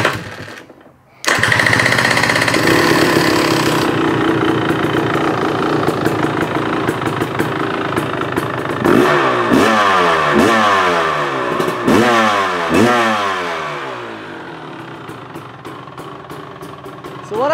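A KTM motorcycle engine with throttle-body injection idles with a loud, close clatter, then is revved several times in sharp rising and falling bursts before settling back. Someone speaks briefly over the engine.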